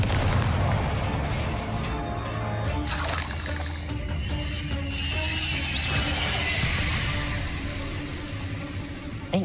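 Confringo spell blast in Hogwarts Legacy: loud booming bursts and crackling impacts within a dense, continuous wash of game noise, with no clear speech.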